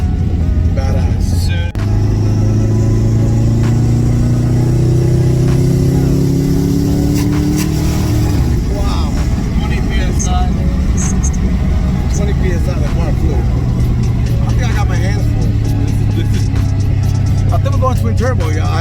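A twin-turbo Dodge Hellcat engine roars loudly as the car accelerates, a deep rising rumble sweeping upward through the gears, heard from inside the car over excited voices.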